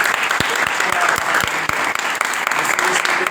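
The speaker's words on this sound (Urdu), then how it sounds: "یسوع کے نام میں آئیے خدا کے کلام کے لیے زوردار تالیاں" A church congregation at a gospel service breaks into loud, sustained applause, a dense wash of clapping with a few sharper claps standing out, filling the whole moment without speech.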